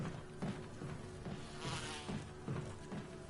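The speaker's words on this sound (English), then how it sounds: "Does Wesker still shoot the bees if I use the insecticide?" Bees buzz in Resident Evil HD, a quiet, steady insect drone with soft pulsing swells and a few faint thuds beneath it, no voices.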